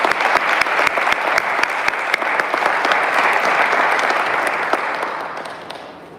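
An audience applauds at an award presentation, dense continuous clapping with sharp individual claps standing out, holding steady before tapering off at the end.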